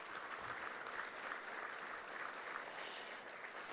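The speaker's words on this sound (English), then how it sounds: "You should give yourselves a round of applause." An audience applauds at a World Trade Week business event in Southern California, with steady, moderately distant clapping sustained throughout that swells slightly at the very end.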